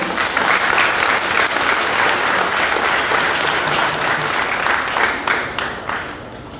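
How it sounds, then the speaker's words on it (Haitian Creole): Crowd clapping at a Saint Joseph feast in the hills of Belle-Vue, Jacmel, Haiti: dense, steady applause from many hands, fairly close and loud, fading out over the final second or so. "nous battons bravo pour les bonnes fêtes"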